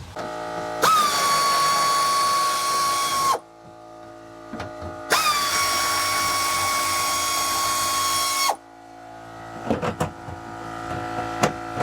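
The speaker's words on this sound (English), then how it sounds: "cutting some plates out on the Harbor Freight bandsaw to have the anchoring points inside the car" A Harbor Freight bandsaw cuts steel plates for harness anchoring points in a stripped-down track car: two sustained, loud whining cutting passes of about three seconds each with a steady tone, separated by a pause, then a few clanks.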